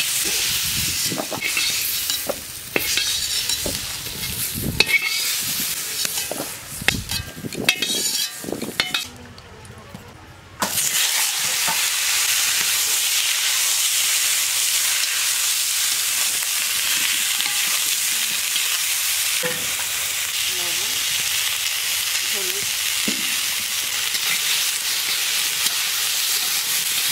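Bhola fish fries in a pan, first with stirring, scraping and utensil knocks over the sizzle, then a short pause followed by a long, even, loud frying hiss.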